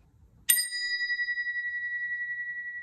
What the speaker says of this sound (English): You can hear the noise of the bell here.